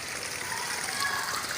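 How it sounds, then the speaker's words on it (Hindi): Water gushes steadily from a burst water pipeline beside a vegetable vine patch, a loud continuous rushing and splashing close by with no break. "ये देखिए पूरी पानी की लाइन फट चुकी है"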